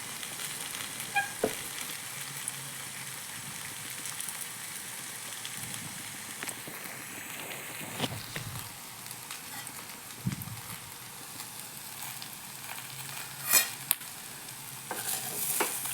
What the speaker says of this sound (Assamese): এইফালে ভাজি আছোঁ কাচকল ভাজি